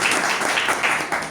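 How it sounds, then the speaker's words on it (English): A round of applause at a Toastmasters club meeting, brisk continuous clapping from a room of members, loud and even from start to finish. "Please give a round of applause to Toastmaster Mumtaz."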